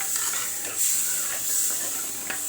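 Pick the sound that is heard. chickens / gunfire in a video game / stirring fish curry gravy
stirring fish curry gravy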